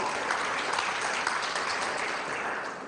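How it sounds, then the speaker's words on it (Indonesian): A church congregation claps steadily in dense, continuous applause during a sermon, fairly close and even in level for the whole stretch, with a faint voice or two under the clapping. "Beri tepuk tangan."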